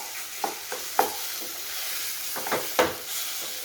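Banana flower parpu usli being stirred in a pan, a spoon scraping and clicking against the metal in a few scattered strokes over a soft, steady background hiss.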